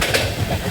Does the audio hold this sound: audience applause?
no